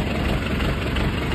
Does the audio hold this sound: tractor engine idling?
yes